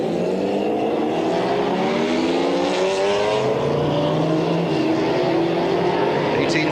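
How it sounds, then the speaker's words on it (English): GT race cars, including a Ferrari F40, rolling round on the pace lap at Jerez in 1995, a dense, continuous engine drone with rising and falling tones as the pack moves, under a commentator's voice. "Well, the pace lap underway."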